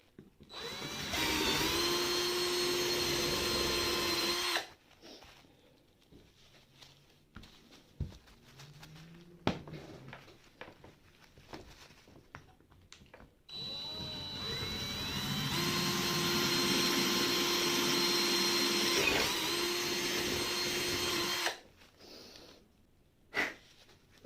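Power drill widening holes in an aluminium throttle body for a 2023 Honda CB125F, two long loud whining bursts with steady pitch, separated by a quieter stretch of handling clatter and small knocks, close by, no speech.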